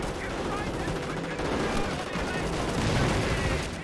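A decoy artillery barrage in Company of Heroes 1, British versus Wehrmacht. Continuous rumbling volleys of distant-sounding shell fire and crackling bursts play under a caster's commentary.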